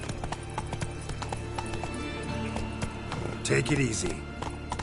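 Roach the horse from the video game The Witcher 3 gallops with rapid, rhythmic hoofbeats, up close and fairly loud, while someone speaks over it, with a brief louder burst near the end.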